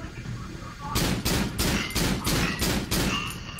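Rapid bursts of gunfire in the horror video game Cry of Fear, aimed at the butcher boss, come as a loud rhythmic series of close, repeated volleys after a quieter opening.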